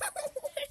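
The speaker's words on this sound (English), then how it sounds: "Turkeys! Gobble, gobble, gobble," Turkeys on a rescue farm give a short burst of gobbling, several quick warbling calls in a row, fairly close but soft, with no voices over them.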